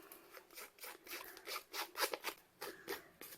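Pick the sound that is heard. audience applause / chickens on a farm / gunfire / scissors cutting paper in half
scissors cutting paper in half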